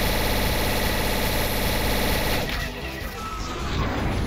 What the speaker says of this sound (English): What about the overcharge rifle?